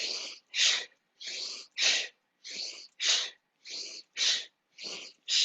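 Quick sniffs in followed by sharp exhaled bursts during a yoga breathing exercise, about ten breaths in a steady alternating rhythm, close and loud with no talking.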